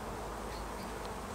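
Honey bees from a collected swarm hum continuously around a nuc box, a dense, even buzz close by with no pauses.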